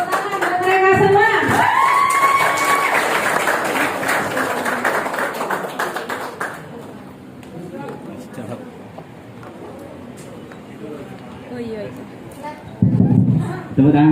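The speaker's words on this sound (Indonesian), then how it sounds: "Tepuk tangan buat mereka semua." An audience claps for several seconds amid cheering and crowd chatter, loud at first, then the applause fades into quieter background murmur and a brief burst of noise near the end.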